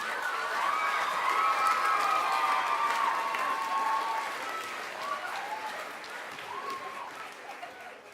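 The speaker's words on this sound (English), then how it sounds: "How about one more round of applause for these wonderful young people?" An audience at a school spring chorus and orchestra concert applauds the young performers, sustained clapping with scattered cheers and voices that gradually thins out.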